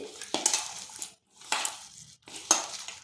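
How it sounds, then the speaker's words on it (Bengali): Sliced onions mixed with salt by hand give three separate bursts of crunchy, wet rustling and squeezing, each about half a second, close and fairly soft, with brief silences between them. "লবণটা ভালোভাবে মিশিয়ে নিচ্ছি"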